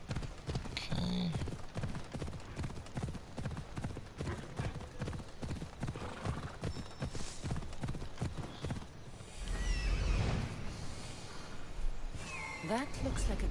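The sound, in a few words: horse hooves and whinnying in Assassin's Creed video game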